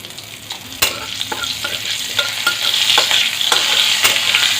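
Asafoetida and a green chili sizzling in hot oil in a pan on a low flame, a steady close frying hiss broken by sharp taps and scrapes of a stirring spoon.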